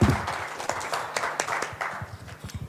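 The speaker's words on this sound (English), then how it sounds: "Right, loud applause." Conference audience clapping for a speaker: a moderate patter of individual hand claps, fairly close and uneven, fading slightly toward the end.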